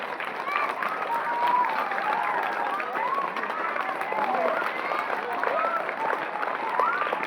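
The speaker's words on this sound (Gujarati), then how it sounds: "શિક્ષકોના સન્માન માટે આપણે સૌ કન્ટિન્યુ તાળીઓ વગાડીશું" A crowd gives continuous applause in honour of departing teachers at a village primary school farewell. The clapping is steady and dense, holding even throughout, with some bird-like chirps and voices faintly mixed in.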